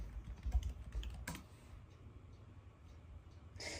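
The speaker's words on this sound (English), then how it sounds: "you're just going to go pull up your YouTube. Type in your name." Typing on a computer keyboard while entering details into an online form: a close, quiet run of soft key clicks in short uneven bursts, with no talking.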